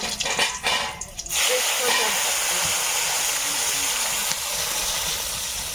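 Dried red chillies hit a very hot wok and break into a loud, steady sizzling hiss that holds close and unbroken after a brief rattling start.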